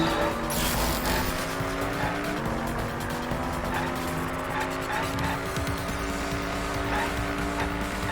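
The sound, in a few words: car driving in Danganronpa V3 video game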